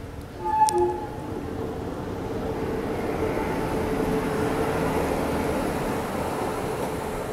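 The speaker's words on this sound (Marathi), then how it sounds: "फायनली ट्रेन आलेली आहे वॅप 7 लोको आणि कुठली तरी ट्रेन आहे, पॅसेंजर ट्रेन आहे." A passenger train hauled by a WAP-7 electric locomotive passes on the Konkan Railway in heavy rain, starting with a brief horn and then a steady broad rolling rumble that continues.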